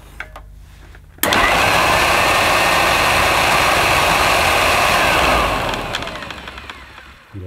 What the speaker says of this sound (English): Yeah, that rattling is the belt.